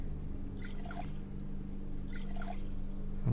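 Drinking water in the survival video game Neo Scavenger: two short bursts of wet dripping, gulping liquid sounds, spaced apart over a steady low background hum.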